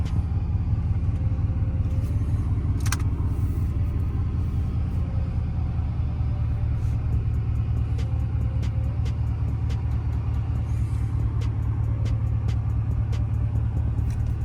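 Chrysler 300C engine idling nearby, a steady low rumbling drone with faint ticking on top, running continuously without pause.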